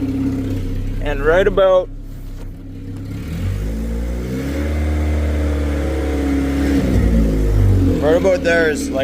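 A car engine revs loudly through a Sunbird muffler with a catalytic converter inside. The exhaust roar swells and holds before dropping off, with someone talking briefly at the start and end.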